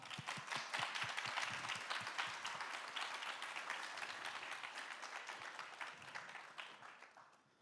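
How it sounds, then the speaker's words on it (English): Warm applause from the audience at the final of the European Debate Tournament 2025, held in a botanical garden, greets Professor Catani. Dense, continuous clapping from a crowd holds steady, then slowly fades toward the end, fairly distant and without talk. "Let's give a warm round of applause to Professor Catani"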